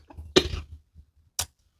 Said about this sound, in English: The coughing helps me to get it out of the air